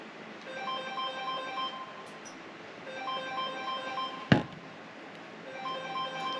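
A work phone rings indoors with a repeating electronic ringtone, clear tonal bursts recurring in cycles about every two seconds over quiet room noise, with a sharp knock partway through.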